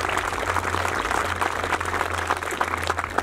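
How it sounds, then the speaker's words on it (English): Audience applause at a high school band concert, a dense steady wash of many hands clapping that fills the room without a break and carries no speech. "Just give that group a big old round of applause."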